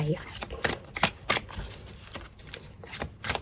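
Tarot cards are shuffled close by, with a run of quick, rhythmic riffling bursts and soft slaps repeating every fraction of a second.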